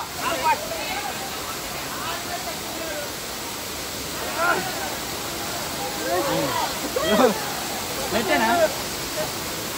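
Swapna waterfall at Manuguru in monsoon roars as a constant broadband rush of falling water, with people talking and calling out intermittently over it.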